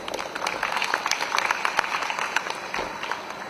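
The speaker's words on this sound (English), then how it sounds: "Let's give a round of applause." Audience at an environmental sustainability summit in Goa applauding, a steady stream of dense hand claps filling the whole stretch at moderate loudness.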